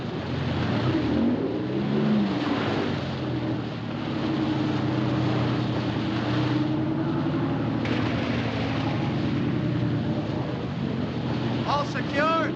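A boat engine runs on the water, a steady loud drone throughout with wind noise and voices on a radio over it, in a 1951 WW2 U.S. Navy film.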